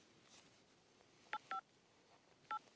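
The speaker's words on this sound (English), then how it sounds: "It's making phone sounds. Like the old school phone." Old-style phone keypad dialing tones, three short electronic beeps in an irregular pattern, fairly quiet over faint background noise.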